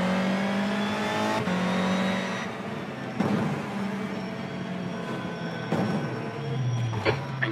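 A touring car engine in a sim racing game at Knockhill circuit, holding a steady high drone with gear changes and rising and falling revs, running alone without voices.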